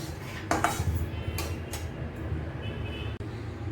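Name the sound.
roasted semolina being transferred from pan to plate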